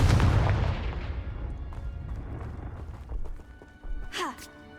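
Confringo fire spell blast in Hogwarts Legacy, a loud booming burst at the start that decays into rumble, followed by smaller thumps and a short voiced exclamation near the end.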